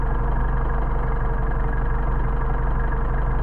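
A car engine fitted with Solex 44PHH carburetors runs steadily during carburetor adjustment, its close, loud, continuous hum holding an even idle with a low rumbling drone and no talking.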